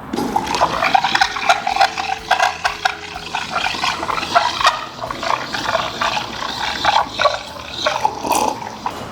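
An Idose Felix espresso machine's steam wand froths milk in a jug, producing a close, continuous hiss with bubbling, gurgling surges and irregular sputters throughout.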